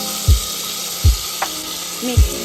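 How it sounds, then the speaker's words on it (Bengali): Rice frying in white oil and ghee inside a pressure cooker, a steady hiss with three low thuds of stirring at regular intervals, close and alone with no voices. "এবার চালগুলোকে ভালো করে ভাজতে হবে অনেকক্ষণ ধরে।"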